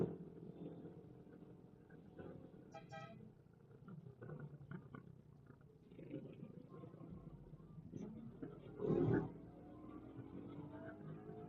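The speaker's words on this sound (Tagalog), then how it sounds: "Ganda ng tunog ng makina." Vehicle engine idling and rumbling through the exhaust on a road trip from Taguig to Antipolo via C6, a steady low drone with a louder surge near the end, quiet voices faintly underneath.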